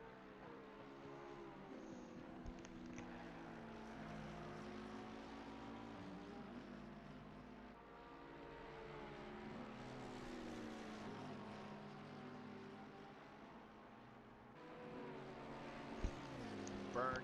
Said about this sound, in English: You can hear the Porsche in the background.